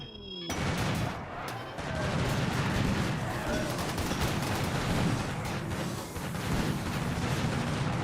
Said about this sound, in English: Oh, the slug turrets.